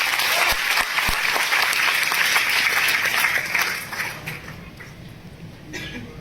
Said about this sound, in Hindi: तो एक जोरदार ताली